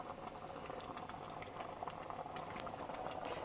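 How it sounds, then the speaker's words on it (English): Water at a rolling boil in a pot for Bisquick dumplings gives a steady, quiet bubbling and pattering close by, with no talk over it. "All right, so this has come to a boil."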